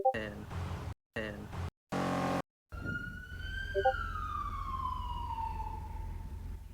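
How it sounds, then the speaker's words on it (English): A siren wails with a long, slowly falling tone, following a few short bursts of talk broken by gaps, with steady low rumble underneath. "Is that you, John, with the siren?"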